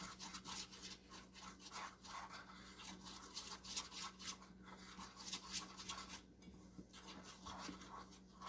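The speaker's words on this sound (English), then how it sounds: "I need to stir this up, this egg yolks and cornstarch." A spoon or whisk stirs egg yolks and cornstarch in a bowl for a coconut cream pie filling, giving a continuous quiet scraping and rubbing with rhythmic strokes and short pauses.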